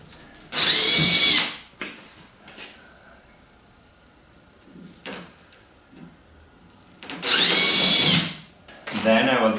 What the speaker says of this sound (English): I'm going to drill through both planks.